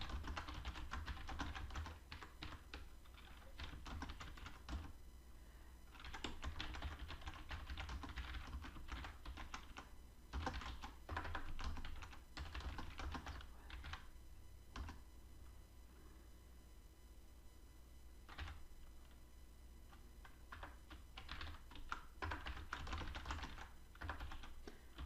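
Typing on a computer keyboard comes in bursts of quick, light clicking keystrokes with short pauses between them, close but fairly quiet, with no speech.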